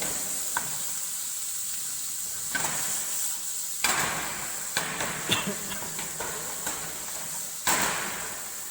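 Salt is being stirred into a dish during Kashmiri cooking, with a spoon scraping and clinking against the pan in irregular strokes over a steady sizzle.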